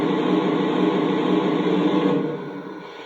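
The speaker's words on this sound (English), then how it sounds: "Here is the steam blowdown sound." A loud, steady hiss of rushing steam, broadband and continuous, fading slightly toward the end: the steam blowdown sound effect of a Lionel Legacy Santa Fe 2-10-4 Texas model locomotive.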